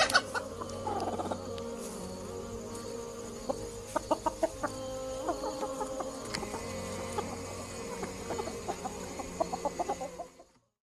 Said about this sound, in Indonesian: Ustaz kok bawa ayam buat apa?